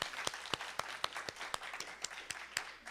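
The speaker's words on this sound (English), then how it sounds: "Can we do an extra big round of applause for Jessica because she's here?" Claps ring out for poet Jessica Jacobs at a faculty presentation, fairly sparse and quiet, with sharp individual hand strikes spaced in a loose rhythm over low room murmur.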